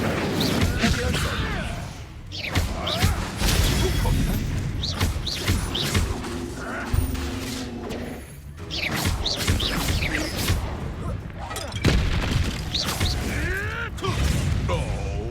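The Incendio fire spell in Hogwarts Legacy whooshes and bursts during combat with wolves, among creaks, thuds and crashing impacts in a busy battle mix, with a voice speaking at times.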